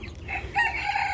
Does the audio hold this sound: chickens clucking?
yes